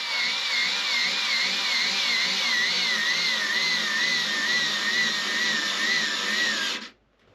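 A small electric screwdriver whines steadily for about seven seconds while driving a screw into flat-pack furniture, its motor pitch wavering slightly under load before cutting off abruptly.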